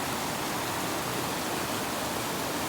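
Creek water flows in a steady, close hiss and rush, a uniform wash of sound with no other noises standing out.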